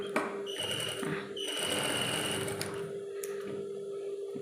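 A sewing machine stitches along the neckline of a V-neck garment in thin fabric, running in steady bursts with brief pauses between passes, close and fairly loud.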